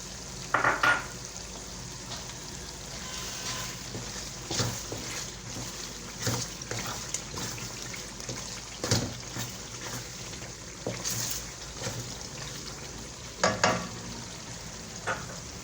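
Chopped capsicum fries in a pan for a spaghetti dish, with a soft sizzle under repeated scraping stirs and occasional clinks of utensil on metal, fairly quiet and close.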